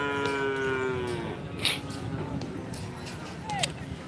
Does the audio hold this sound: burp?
no